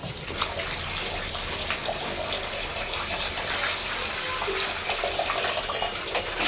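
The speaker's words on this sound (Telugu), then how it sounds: "ఇంకా శుభ్రంగా కడుక్కోవాలండి." Fish pieces, a two-kilogram river catch for curry, being washed in a kitchen under running water, a steady splashing gush close by that continues throughout without pause and without voices.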